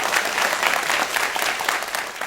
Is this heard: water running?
no